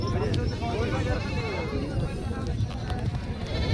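Goats bleating at a busy livestock market in Kalamnuri, Hingoli district; wavering calls rise and fall through steady crowd chatter and murmuring voices close by.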